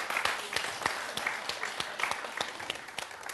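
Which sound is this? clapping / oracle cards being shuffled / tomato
clapping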